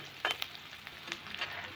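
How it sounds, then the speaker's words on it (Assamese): Oil sizzles and crackles steadily as onion and garlic fry, with a few sharper pops and stirring sounds over a constant hiss. "এয়া তেলত পিঁয়াজ নহৰু একেলগে দিলোঁ।"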